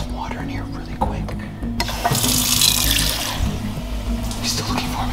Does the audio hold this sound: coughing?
no